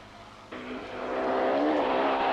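A Ford Cosworth rally car on a 1992 Rallye des Hautes Fagnes special stage, engine note rising sharply as it accelerates and draws nearer, loud and building over a couple of seconds.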